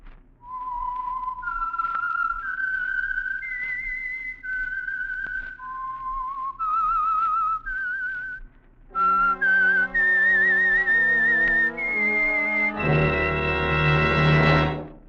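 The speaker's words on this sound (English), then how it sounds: "the signal to listen for is this whistle" The whistled signature tune of the radio program The Whistler, a solo melody clear and close, rising and falling in sustained phrases, then joined by fuller instrumental backing toward the end.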